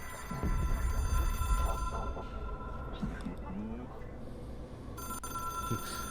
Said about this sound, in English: And it's a rotary phone.